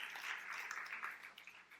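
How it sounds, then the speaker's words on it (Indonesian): Applause rises in a church, a dense patter of many hands clapping for about two seconds, fairly faint and even. "Tepuk tangan yang meriah untuk kemuliaan Tuhan"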